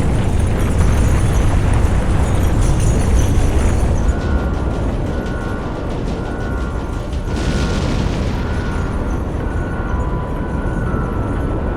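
A rocket liftoff in Trails Beyond the Horizon produces a loud, continuous broadband rumble and roar that holds steady throughout, with a brief hiss swelling midway.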